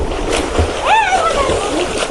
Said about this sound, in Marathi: आमचं पाणी उडायला लागलं.